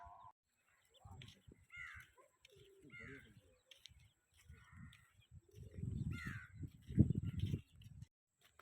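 Crows caw in scattered calls around a quiet village bird house in Gujarat, with brief low murmurs of people talking and a louder rustle near the end.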